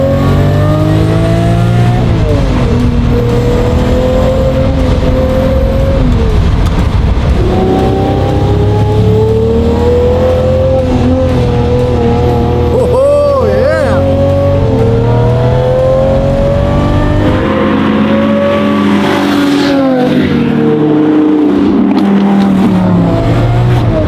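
A rare Lamborghini accelerates hard, its engine revving loud and close through rising and falling gear pulls, with a brief lift around the middle before climbing again, no talking.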